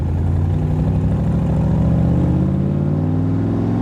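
A 1965 Shelby Cobra Superformance running steadily nearby, its engine a loud, continuous low rumble with a dense, even burble and no pauses.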